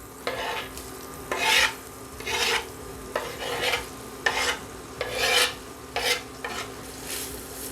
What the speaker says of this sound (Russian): И периодически помешивая, обжариваем лук до золотистого цвета